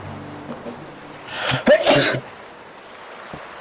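A sneeze from a player at a tabletop roleplaying session: a sharp, loud burst preceded by a brief intake, heard close and alone after faint background murmur.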